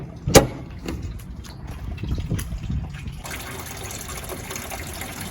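Coolant gushes from the radiator of a Ford F-250 Super Duty with the V10 6.8 engine during a flush. A sharp splash opens it, followed by steady nearby pouring that turns into a broader, hissing rush partway through.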